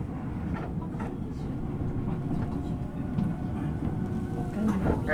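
Ueda Electric Railway 1000 series two-car train with Toyo GTO-VVVF control running on the Bessho Line, a steady close rumble of wheels and motor throughout, swelling slightly near the end.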